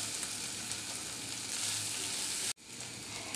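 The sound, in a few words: mashed potato frying with spices in a pan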